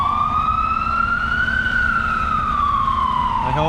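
Ambulance siren wails steadily as the vehicle passes through rain-wet Cortlandt Alley in Manhattan, its tone rising then falling as it goes by, loud over a low rumble of traffic.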